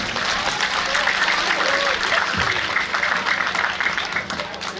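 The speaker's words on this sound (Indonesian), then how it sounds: "Kita tepuk tangan untuk Tuhan." A congregation at a church jamboree closing service claps together, sustained applause with a voice and some tonal sound running beneath it.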